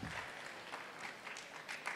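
Audience applause at an economic symposium in Sunyani, a steady wash of clapping from a crowd in a hall, fairly faint and even throughout with a few slightly louder bursts.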